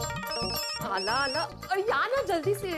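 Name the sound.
telephone ringing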